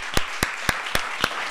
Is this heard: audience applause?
yes